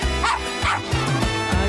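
Dogs of all breeds and sizes barking at a street pet parade during Medellín's Feria de las Flores: several sharp, close barks and yips in quick succession, loud and clear over a busy outdoor background.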